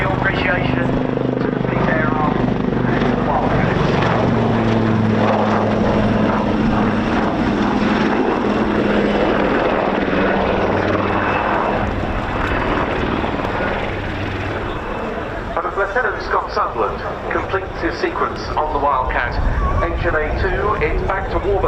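Wildcat helicopter, formerly the Lynx Wildcat, on its final display pass at an air show, with a loud continuous rotor and engine roar that fades slightly then returns with pulsing blade chop, a commentator talking over it throughout.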